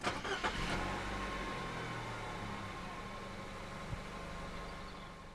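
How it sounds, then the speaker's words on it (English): A 2019 Nissan X-Trail 2.0 2WD (T32) starts by push button: a short cranking burst catches, then the engine settles into a steady, close idle hum that runs on alone with no voices. "press the start button to the left of the steering wheel."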